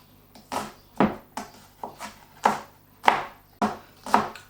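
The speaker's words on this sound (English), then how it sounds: "I'm going to just finely chop my spring onions." A knife finely chops spring onions on a board in about eight quick, evenly spaced cuts, close and crisp, with no voices.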